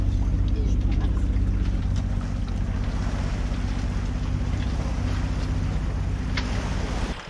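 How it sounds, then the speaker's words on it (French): Wind rushes steadily across the microphone on a sailboat at sea off Ibiza, with a low rumble beneath and faint creaks and splashes. "Le vent est rentré depuis une demi-heure."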